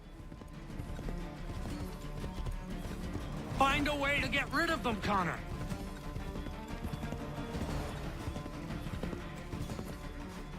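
Rapid hoofbeats of a galloping horse in Assassin's Creed 3 run steadily beneath game dialogue, with one voice speaking over the rhythmic clip-clop partway through.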